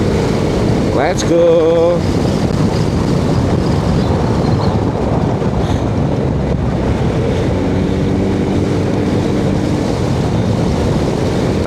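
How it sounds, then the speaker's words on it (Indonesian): A Yamaha X-Max scooter held at full throttle on a road, a steady loud engine drone blended with heavy wind rush on the microphone, with a brief spoken remark near the start. "Oke, kita tes ya, speed ya, pakai X-Max yuk."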